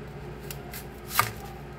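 A knife slices through an onion in a home kitchen, making faint scattered cutting taps with one sharper, clearer cut near the end, heard alone at low volume.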